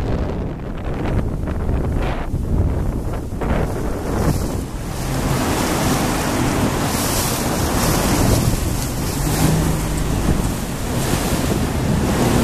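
Strong rushing water and gusting wind buffet a boat on a river during a dorado fishing trip in Argentina, a loud, continuous roar with no talking.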